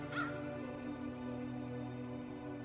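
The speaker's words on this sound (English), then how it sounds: "And the crows are agreeing with me." A single crow caws once near the start, fairly faint and distant, over a steady low background hum.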